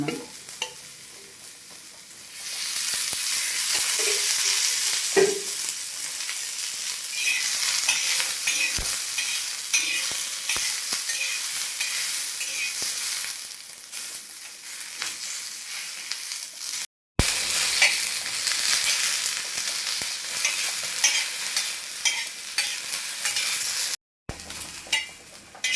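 Onion and tomato frying in a little oil, a loud continuous sizzle with scraping stirs, briefly cutting out twice, no voices.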